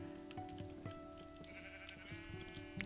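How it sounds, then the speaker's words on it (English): A flock of many sheep in Minecraft bleats repeatedly, several overlapping calls rising one after another over a steady low background hum. "Okay, this is a lot of sheep."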